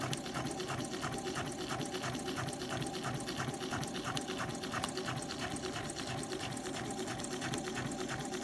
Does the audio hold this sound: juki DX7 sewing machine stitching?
yes